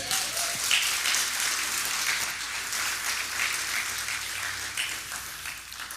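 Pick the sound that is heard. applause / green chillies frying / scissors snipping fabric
applause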